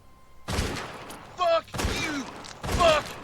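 Gunshots in The Walking Dead video game ring out loud and close, about three sharp blasts spread across the moment, mixed with someone speaking and a game character talking.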